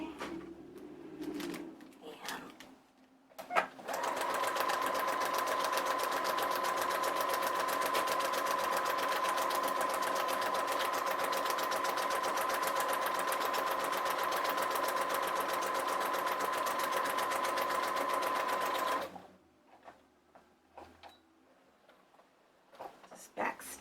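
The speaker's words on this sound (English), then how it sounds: "We're just going to do a straight stitch." A sewing machine runs a long straight stitch down the center of fabric, a steady fast mechanical whir with a constant tone lasting about fifteen seconds, preceded and followed by brief handling sounds and a little talk.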